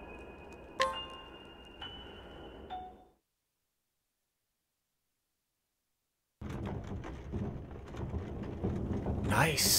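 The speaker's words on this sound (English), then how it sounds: "The coiled spring turns the gears, making them mesh and move the gondola along." Clockwork gondola gears turning in Octopath Traveler 2, driven by a coiled spring: a few sharp metallic ticks with ringing tones, a stretch of silence, then a dense, rumbling mechanical churn that builds louder toward the end.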